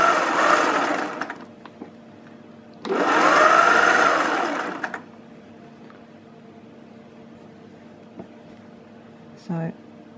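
A sewing machine stitching fabric side gussets on a zero-waste dress, with two loud whirring bursts of stitching, the second steadier, then quiet clicks and a short burst near the end; a voice talks at the start.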